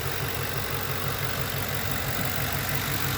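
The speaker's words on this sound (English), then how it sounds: "So, as you can see, the engine is nice and quiet." A 2005 Lincoln Town Car with newly installed 2006–2011 style fuel injectors idles smoothly and quietly, a steady close engine hum with even low pulsing and no voices throughout.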